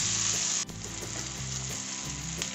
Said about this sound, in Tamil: வெங்காயம், தக்காளி போட்டு இது நல்லா வதக்கிக்கலாம்.